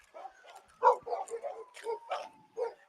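A leashed dog barks and yips in a series of short, close, uneven bursts during a tense street confrontation with police, one sharper bark standing out.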